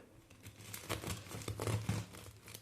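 A knife saws through the middle of a cooled loaf of gluten-free bread, producing faint, close crinkly crunching with a brief irregular rhythm.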